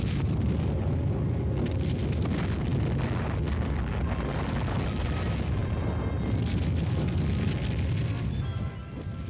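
Non-atomic artillery fire from supporting elements rolls on as a continuous, heavy barrage, a dense roar of overlapping booms and blasts that stays loud for the whole stretch with no pauses.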